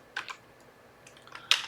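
Keystrokes on a computer keyboard while a Linux alias command is typed: a few quick, close clicks in small bursts with a pause between, then a sharper tap at the end, with no talking.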